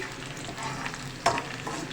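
Whole garam masala spices and a bay leaf sizzle in hot oil, a steady frying crackle with a sharper pop near the middle, heard close and alone.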